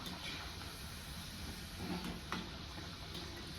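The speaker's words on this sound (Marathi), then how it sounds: "तर असे दोन्ही साईडला आपल्याला छान असं खुसखुशीत असं तळून घ्यायचं" Rice flour and fresh coconut vadas fry in hot oil until crisp on both sides, a faint steady sizzle and hiss that continues throughout with a few soft pops.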